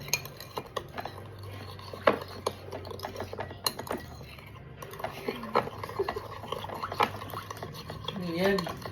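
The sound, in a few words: stirring food quickly with utensil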